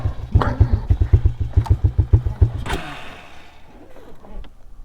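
Two-wheel-drive off-road vehicle engine labouring in first gear on a forest road trail, a close, loud rhythmic chugging pulse that fades into a quieter low idle rumble.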